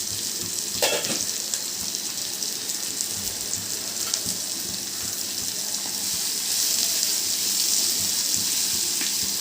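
Onions frying in hot oil with cumin for shark puttu: a steady, close sizzle with a bright hissing crackle that grows slightly louder toward the end, with no talk.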